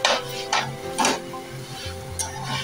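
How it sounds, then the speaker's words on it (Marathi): Boiled potatoes tossed into a hot tempering and sautéed in a pan for a fasting batata usal, with sharp spoon scrapes and clanks over a soft sizzle, close up and without talk. "आता ही परतवून घेऊया."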